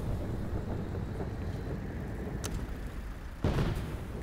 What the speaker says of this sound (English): Alright, the wind's picking back up.